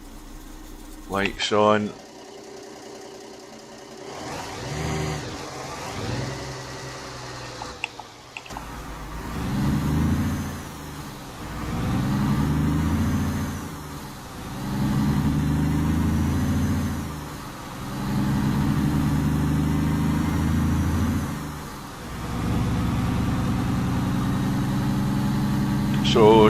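A truck engine in Alaska starts and settles into a steady idle, then pulls away with slow, repeating swells of mid-pitched drone as it drives, with someone speaking briefly near the start.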